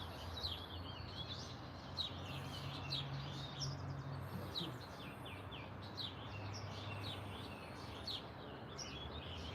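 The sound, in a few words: birds chirping outdoors in the morning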